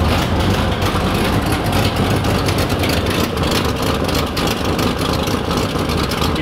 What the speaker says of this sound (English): That's got a pretty good exhaust leak